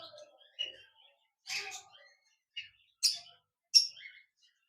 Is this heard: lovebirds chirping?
yes